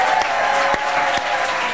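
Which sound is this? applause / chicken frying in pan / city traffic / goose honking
applause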